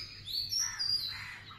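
Small birds chirp over a village rice field, quick thin tweets rising and falling softly at a distance against a quiet background.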